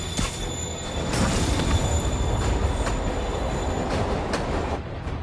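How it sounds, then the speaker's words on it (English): Train rolling past in a Spider-Man video game, a steady loud rumble of wheels and carriages with faint squeals and periodic clacks running throughout, no voices. "Train moving."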